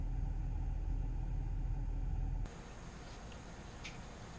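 A Ford 6.7 Power Stroke diesel truck on a test lap: a steady low engine rumble that drops abruptly to a quieter, hissier drive noise partway through, with no talking.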